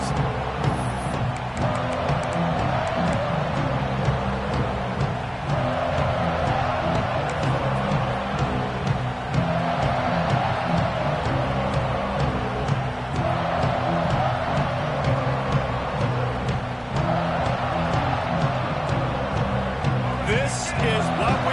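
Football stadium crowd buzzing with a broad, continuous murmur and roar, sitting beneath commentators talking over it for the whole stretch.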